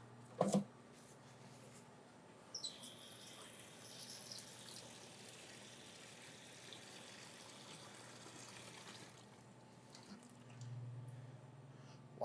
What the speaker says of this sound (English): Wash our hands again.